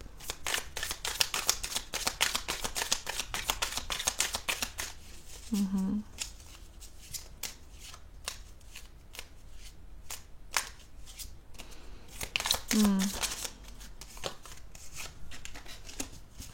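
Tarot cards shuffled by hand close up, a long run of rapid riffling flicks that pause briefly and resume, with a soft voice murmuring faintly in between.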